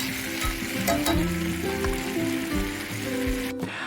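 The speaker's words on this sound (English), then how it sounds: "I add a ladle of pasta water to the pan" A ladle of pasta water hits a hot pan with garlic and sizzles, a loud continuous crackling hiss with bubbling and stirring clatter, up close and without talk.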